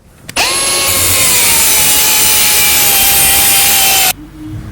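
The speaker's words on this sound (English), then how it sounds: "So I've just cut through the bracket there." A power tool cuts through a steel anti-roll bar link bracket on a Land Rover Defender TD5, starting abruptly and running as one loud, continuous high whine with a slowly falling pitch for about four seconds before stopping.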